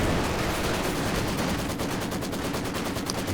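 A Soviet Maxim machine gun firing in the Company of Heroes 2 strategy game during a 2v2 battle, with steady rapid bursts of rattling fire among other gunfire and mortar blasts, loud and continuous.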